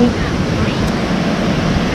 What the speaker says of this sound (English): This amazing waterfall that we've come to